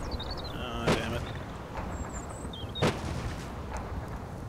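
Artillery-style gunfire from a 20mm gun and mortars in the Normandy wargame Combat Mission: two sharp booming shots about two seconds apart, over a dense bed of distant battle noise.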